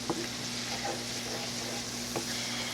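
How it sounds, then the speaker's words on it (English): Fried rice sizzles steadily in a hot pan, with a soft continuous crackle and a few scraping stirs over a low background hum. "So now we're going to let this cook for another couple of minutes. Just kind of fry it all together here."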